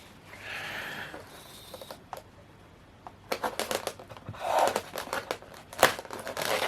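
Tape being peeled and pulled off a cardboard Hornby model locomotive box, with crinkling and sharp tearing bursts that come in uneven clusters, close and moderately loud.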